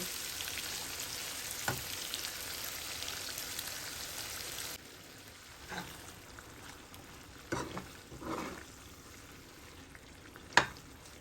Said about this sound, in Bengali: এখন আমি একটু এটাকে এই তেল আর ঘি মিক্স করা এই মশলা দিয়ে এটাকে এখন আমি একটুখানি ভালোভাবে কষিয়ে নেব